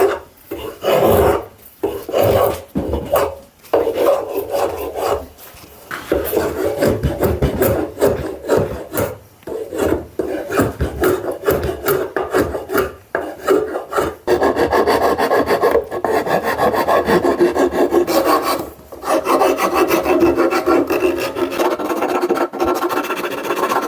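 Rough pallet wood being sanded and rasped to round its edges, a loud continuous scraping rub that runs in long strokes with a few brief pauses.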